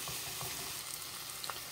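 Steady close sizzling of spices and vegetables frying in a pan for shrimp fajitas, with faint stirring scrapes.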